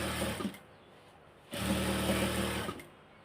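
A sewing machine stitches a side seam of a dress in two short, close bursts of quick, steady whirring, separated by a brief quiet pause.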